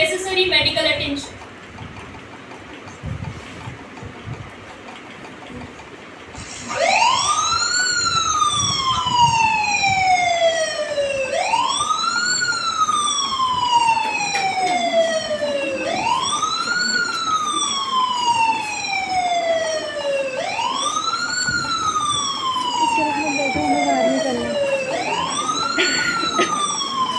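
Wailing ambulance siren sweeping up and down in a steady repeating cycle, loud and close, from a patient-transport exercise by nursing students; background voices and crowd noise run beneath it.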